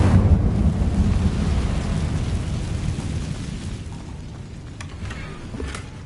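A fire spell cast in the Hogwarts Legacy video game lands as a deep rumbling whoosh with a boomy roar at the start, then slowly fades under a rain-like crackling wash.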